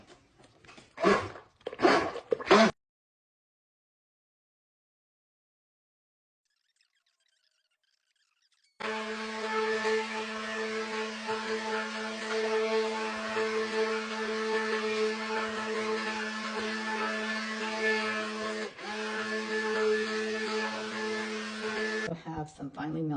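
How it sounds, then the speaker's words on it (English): A stick blender mixes vegan coconut milk soap batter with oatmeal, giving a steady, close motor whir that runs for about fourteen seconds after a short stretch of speech and a silent pause. "So I'm going to stick blend this, like I said."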